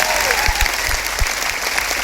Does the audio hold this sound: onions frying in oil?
no